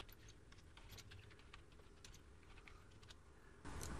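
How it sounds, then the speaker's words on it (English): Quiet, rapid keystrokes on a PC computer keyboard, an irregular run of light clicks typing a question into a Twitter poll, with no talking. "I'm going to type my question."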